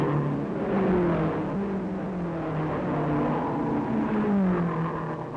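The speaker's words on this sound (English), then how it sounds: "The surging power of the supercharged engines gives wings to their wheels." Supercharged 1930s race car engines roaring around the Tripoli circuit, several cars whining and rising in pitch as they accelerate and pass, loud and continuous with overlapping engine notes.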